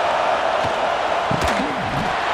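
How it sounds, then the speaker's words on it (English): Steady roar of a college football stadium crowd during a red zone defensive stand, LSU at Clemson, a dense continuous wash of cheering with a few brief shouts and a whistling tone rising above it. "And here comes the noise. This crowd is trying to inspire this defense to make a big red zone stop."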